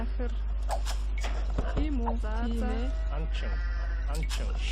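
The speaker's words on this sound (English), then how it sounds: "Oh my god, I keep dropping food because of this bad sheep there." A sheep in Age of Empires 2 lets out a few wavering bleats in the middle distance, set against a steady background hum and game clicks, while someone talks over it.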